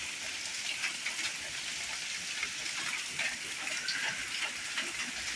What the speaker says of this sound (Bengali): এই দেখো কত বৃষ্টি মানে বৃষ্টিটা ওরকম মানে ক্যামেরাতে বোঝা যাচ্ছে না ভালো বৃষ্টি পড়ছে